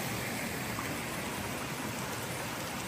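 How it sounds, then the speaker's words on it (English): A spring along the Appalachian Trail runs as a steady, soft wash of flowing water, continuous and even with no voices. "Just came across the spring."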